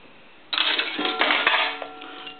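Quarters drop into a three-slot Western Electric 191G payphone and strike its gong, giving a bright ringing clang followed by metallic rattles and a sharp closing clunk, close and loud with no talking.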